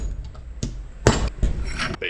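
Metal clangs in a few sharp, uneven hammer blows as a bent axle retaining plate on a Jeep Wrangler YJ is knocked back flat. The strikes ring close by in a garage setting.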